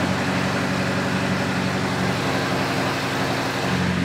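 A loud, steady BMW M8 engine roar with a low rumbling drone, continuous and close, echoing in an enclosed room.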